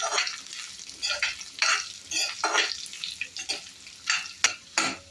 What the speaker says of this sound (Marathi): हे छान असं आपण भाजून घेणार आहोत.